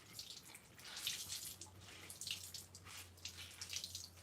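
A rag is rinsed under running water from a tap, a faint, close splashing wash with uneven swells as the cloth moves through the stream over a low steady hum.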